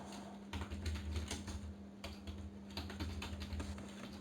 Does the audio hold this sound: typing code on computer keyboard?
yes